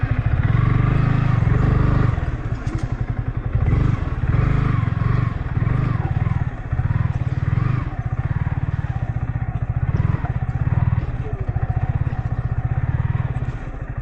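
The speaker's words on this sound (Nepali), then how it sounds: "के गर्ने यार अर्को बाइक आयो क्या" A motorcycle engine churns loud and close on a muddy off-road trail near Godawari Marble Danda, its rough, steady drone rising and falling as it labors along, with a voice speaking faintly underneath.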